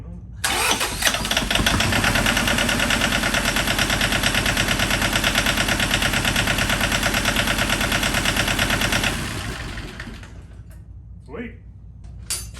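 A rebuilt two-cylinder John Deere 650 tractor engine cranks and catches, then runs loud and steady nearby with a dense rapid chug for several seconds before easing down, and a few voices are heard toward the end.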